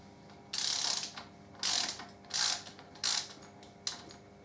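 Socket ratchet undoing a clamp nut on the bottom yoke of a Harley-Davidson Deuce trike fork, giving four or five close, crisp bursts of rapid clicking separated by short pauses.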